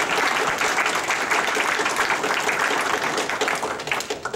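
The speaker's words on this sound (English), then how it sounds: "So can we give Ms. Tammy Austin a big round of applause?" Audience applause fills a school board of education meeting, a dense, steady wash of many hands clapping for about four seconds before tapering slightly at the end.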